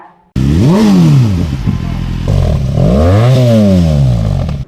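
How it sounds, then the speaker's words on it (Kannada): A loud engine close by revs up and down twice on a highway near Devanahalli, its pitch rising and falling like a luxury motorcycle accelerating past. "ಹೈವೇಲಿ ಐಷಾರಾಮಿ ಬೈಕ್ ಕಾರುಗಳದ್ದೇ ಸದ್ದು"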